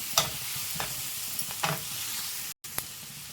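Spices stirred into a frying pan with a spoon, a few distinct scraping strokes spaced out over a soft steady sizzle, close and fairly quiet with one brief gap near the end.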